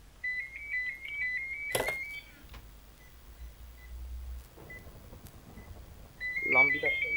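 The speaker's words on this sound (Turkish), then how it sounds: "Abi yalnız baya telefon çalıyor." A phone rings repeatedly in a room during a Minecraft SkyWars gaming session, a steady tonal ring pattern heard at the start and again near the end, with someone talking in between.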